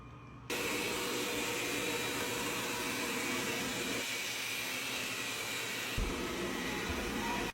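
A Wyze smart robot vacuum runs indoors with a steady, loud whooshing motor hum that holds constant for several seconds, with a brief bump near the end.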